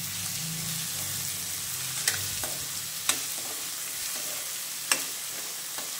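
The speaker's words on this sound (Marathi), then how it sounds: "2 मोठे कांदे जे मी चॉपरने आधी चॉप करून घेतले होते, आता याला छान फ्राय करून घेऊया" Finely chopped onions fry with half a teaspoon of cumin for chana masala, a steady soft sizzle broken by a few sharp utensil clinks as they are stirred in the pan; no one speaks.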